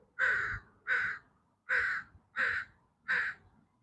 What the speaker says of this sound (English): I'm talking to this crow right now.